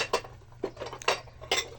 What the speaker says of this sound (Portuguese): eu vou começar guardando a louça que tá na bacia.